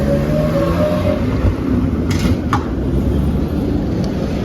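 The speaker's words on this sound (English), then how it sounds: "That's our train, actually." A train pulls into a station in Lviv, Ukraine, with a loud, steady rolling rumble and a couple of brief metallic squeals.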